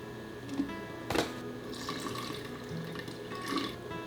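Water is poured into sourdough starter with flour, a soft trickling pour heard close and fairly quiet, with a few faint knocks around it and no talking.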